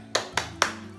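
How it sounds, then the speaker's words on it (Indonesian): Three crisp, evenly spaced claps from a group of children doing the rhythmic 'tepuk semangat' clap, close and sharp with brief silences between them. "Jadi ayo kita tepuk semangat bersama-sama"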